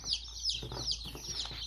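A steady chorus of high, thin peeping from many chicks in a cardboard-box brooder at home, overlapping and continuous, close by.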